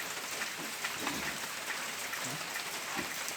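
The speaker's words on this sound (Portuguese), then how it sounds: "Tá chovendo. Só chuva. Mais chuva." Rain falls steadily outdoors, a soft continuous hiss with scattered drips and patters, with no voices over it.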